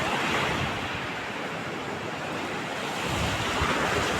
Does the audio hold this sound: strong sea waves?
yes